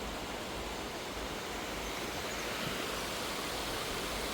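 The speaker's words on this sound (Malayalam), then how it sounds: "ഷട്ടറൊന്നും ഓപ്പണിംഗ് അല്ല പക്ഷേ എന്തോ ലീക്കേജ് ഉള്ളതുകൊണ്ടാണ് ഈ വെള്ളം ഇങ്ങനെ പോയിക്കൊണ്ടിരിക്കുന്നത്" Water rushing steadily out through a leak at Maniyar Dam, a continuous broadband roar heard alone with no voices, even and unbroken throughout.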